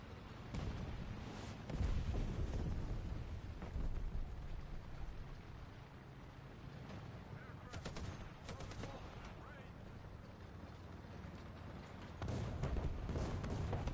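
A 122 mm tank gun fires in War Thunder, with heavy booming shots at intervals over a constant rumbling battle background and a possible voice in the mix.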